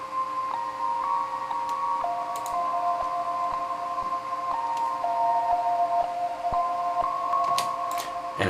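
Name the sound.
bell melody with gross beat, flanger and reverb effects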